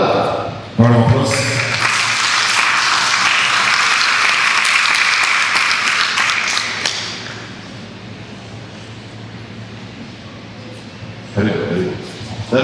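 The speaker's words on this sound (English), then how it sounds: "Round of applause." An audience at a sommelier contest final bursts into loud, dense applause that holds steady for several seconds and then fades, with a few brief sharp sounds near the end.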